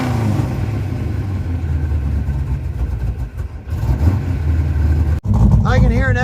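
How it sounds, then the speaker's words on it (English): A project vehicle with custom tail pipes runs at a steady, loud, close idle with a deep, even rumble and a small exhaust leak underneath; a voice talks over it near the end. "I can hear an ever so slight exhaust leak under there"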